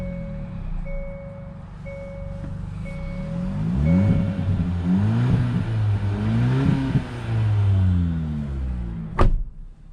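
A 2021 Hyundai Elantra N Line with a 6-speed manual drives along, its engine revving up in rising sweeps through the gears, loud and close. A steady two-tone beep runs over the start and a sharp knock lands near the end.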